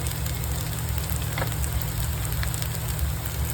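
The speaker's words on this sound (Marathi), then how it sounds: "तर मस्त आपला आता कांदा आणि टमॅटो फ्राय झालेला आहे." Onion and tomato fry with spices in a pan, giving a steady, close crackling sizzle that runs on without a break.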